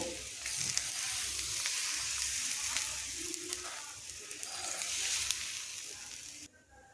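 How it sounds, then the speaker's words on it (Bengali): Thin vegetable breakfast batter, spread into a flat bread shape, fries in oil and butter with a soft, steady sizzle and occasional crackles, fairly quiet and close, ending in a sudden drop. "এখানে দিয়ে ভালো করে এটাকে পাতলা করে রুটির আকারে ভেজে নেবো"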